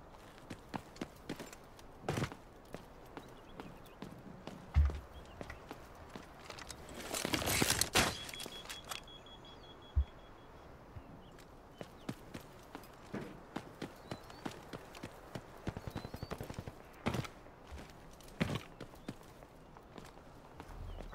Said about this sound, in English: Footsteps up there.